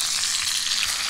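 Trout sizzles and fries in a hot pan right as it is flipped, giving a brief, close, continuous crackling hiss with no talking.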